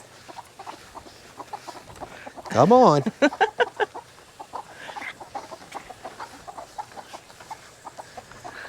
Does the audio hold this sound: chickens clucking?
yes